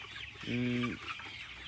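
A single clear cluck from a local chicken in a coop, close by, rising briefly out of a quiet background hiss.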